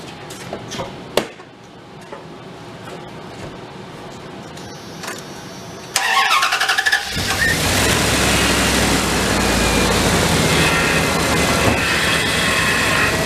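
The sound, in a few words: old plow truck engine starting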